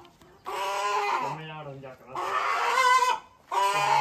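Fighter chickens kept at home give loud, close, drawn-out clucking calls in three bursts separated by short quiet gaps.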